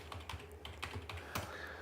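Rapid, uneven clicking of keys on a computer keyboard, close and quiet, a short burst of typing with no voices.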